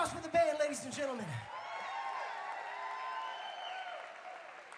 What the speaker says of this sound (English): Big round of applause for the band, ladies and gentlemen.